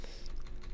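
Computer keyboard keys tapped in quick, light clicks, a short uneven burst of typing heard up close with no talking.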